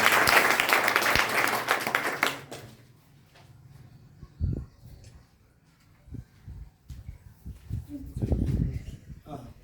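An audience at an awards ceremony for top students claps loudly for a student, the applause dying away after about two seconds, followed by scattered knocks and shuffling noises.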